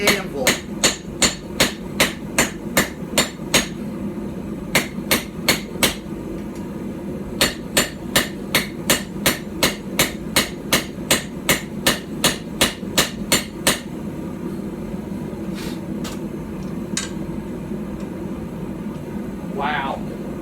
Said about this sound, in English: I'm also having to be way more careful with my strikes because that is a tiny,